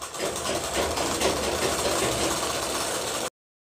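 A sewing machine stitches the lower seam of a kurti with a continuous, close motor whir and a fast, even stitching buzz that runs for about three seconds and then stops abruptly, with no talking.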